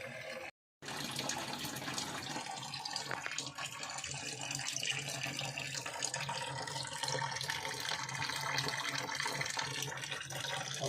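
Tap water runs steadily into a water filter being rinsed and cleaned, washing out cloudy, soapy water; a continuous splashing, gushing flow fills the clip after a brief silent gap near the start.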